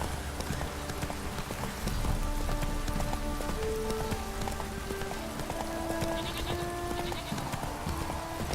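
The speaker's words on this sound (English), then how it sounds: "This downpour's a bastard, it is." Steady heavy downpour patters and hisses on surfaces in The Witcher 3, mixed with hoof clops and faint tonal game sounds in the background; no clear speech.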